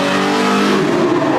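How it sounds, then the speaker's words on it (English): A vehicle's engine revs loudly and close as it rolls out of the line at the 2024 Nassau County Championship, a strong steady droning note with no voices over it. "Tommy Marr going to give it a couple revs"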